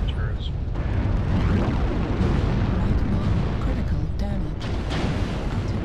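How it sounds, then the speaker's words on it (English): Heavy, continuous rumbling blasts of an artillery strike in the MechWarrior Online mech combat game, loud and dense throughout, with a player's voice talking over the barrage. "Oh, my artillery strike?"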